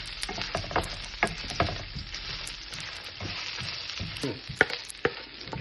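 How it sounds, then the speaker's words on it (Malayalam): Ginger and garlic sizzle steadily in a hot pan while being sautéed for pork vindaloo, with frequent scraping clicks from the stirring. "അപ്പം ഇഞ്ചി ആവശ്യത്തിന് വെളുത്തുള്ളിയും കൂടെ ഇട്ട് ഞാൻ ഒന്നുകൂടെ വഴറ്റിയെടുക്കുകയാണ്."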